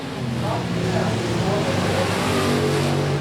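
Race car accelerating hard out of turn two at Golden Triangle Raceway Park, a steady loud engine roar held throughout while an announcer talks over it.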